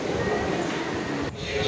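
Howrah Metro train running underground, a steady, loud rumble throughout with a sudden shift in tone near the end as the carriage noise changes.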